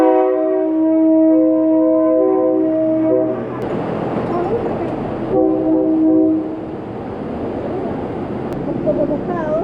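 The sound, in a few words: train passing through a Bangkok market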